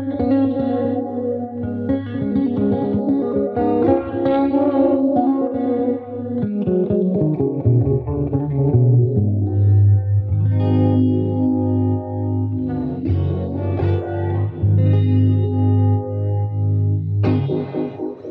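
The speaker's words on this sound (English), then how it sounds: "on the guitar track, I've added some effects that give it a pretty cool bluesy sound" Electric guitar recorded in GarageBand through a Fifine Amplitank SC1 audio interface, shaped with bluesy effects, plays loud sustained chords and melodic lines with distortion, chorus and echo, continuous and up close with no talking.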